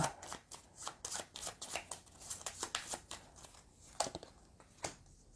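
Board game cards from a deck of villager cards being reshuffled by hand at a tabletop: a quick series of close, crisp riffling flutters and soft slaps, fairly quiet and without talk.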